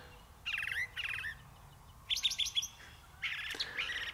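A brown thrasher sings outdoors on an evening, giving short, bright, repeated phrases, often in pairs, with gaps between them. The bird is fairly faint and sounds somewhat distant over a quiet, low background hum.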